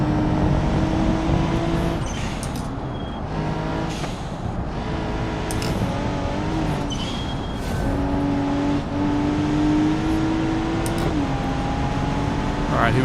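A car engine running at 1.5 bar of boost in the BeamNG video game drones loudly and steadily, its pitch rising and dropping with the throttle, and a voice talks briefly over it.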